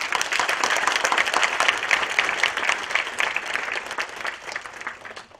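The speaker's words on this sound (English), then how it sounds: "Let's give everybody a good round of applause." Audience at the Grace Hopper Celebration India 2015 tech conference gives a steady round of applause, dense and sustained for the whole stretch, with many hands clapping together at a fairly close, even level.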